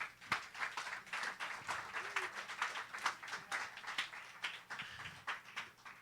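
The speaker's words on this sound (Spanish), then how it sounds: "Dale un aplauso, Señor." Congregation applause during a Spanish-language church worship service, fairly quiet and distant, with irregular clapping continuing throughout and a few murmured voices underneath.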